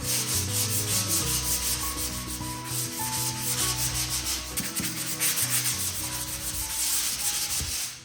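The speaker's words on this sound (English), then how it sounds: "after this step of sanding and joint compound" Steady abrasive scraping and rubbing of sanding joint compound on a patched drywall surface, continuous and close, with a rhythmic back-and-forth texture and no voices.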